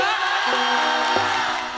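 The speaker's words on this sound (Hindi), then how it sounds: "एक बार हल्ला क के ताली बजा दियो तो" A crowd at a Vidyapati festival stage show in Darbhanga claps and shouts on cue, a dense, loud burst of cheering and whooping noise that fills the short moment.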